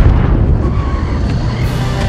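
A loud, sustained explosion from the Super Mario Bros. film, with deep booming low end and crackling debris, staying heavy throughout before cutting off abruptly.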